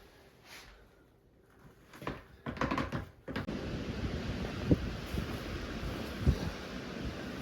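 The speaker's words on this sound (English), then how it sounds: "It's windy." Wind blows outdoors on a freezing winter day, a faint low rushing that builds into steady gusty noise with occasional buffeting bumps against the microphone, with no talking.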